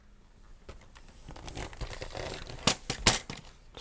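Paper or cardstock for a giant tunnel craft tag being trimmed, with crinkling rustles building into a few sharp crisp snips and tears near the end, close and fairly quiet.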